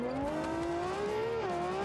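Loud, continuous engine roar from a five-exhaust car in the BeamNG.drive racing game, holding a steady high pitch that dips briefly near the end, with no talk over it.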